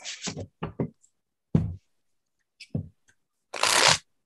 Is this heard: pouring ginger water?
no